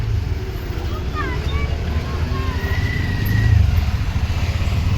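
Road traffic entering Khed town, viewed from an auto-rickshaw on the NH66 highway, with a steady low engine rumble and passing vehicles, one swelling louder near the end.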